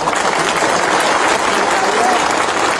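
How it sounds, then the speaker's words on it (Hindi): Rally crowd at a massive outdoor protest for minorities in Bangladesh applauding, a thick continuous roar of clapping at high, steady level with crowd voices blended underneath. "सब इनको भी एक बड़ा ताली दीजिए।"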